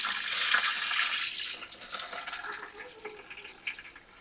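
Water drains from soaked rice for thatte idli: a steady, close rush of running water that eases after the first second and a half into an uneven, splashing trickle.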